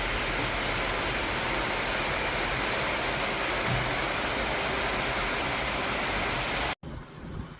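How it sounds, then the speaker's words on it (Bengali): Heavy rain pours down under a dark sky, a dense, steady roar of broadband hiss that holds for several seconds before cutting off abruptly into a much quieter room tone. "খুব জোর বৃষ্টি পড়ছে"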